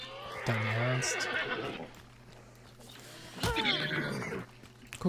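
Horse neighing in the video game Hunt: Showdown, two loud whinnies about three seconds apart, each a rising then falling squeal over a steady low game hum.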